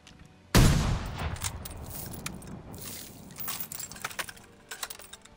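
A blunderbuss shotgun fires in a World War II video game with one loud, close blast, followed by clicky metallic reloading and handling sounds and scattered distant gunfire.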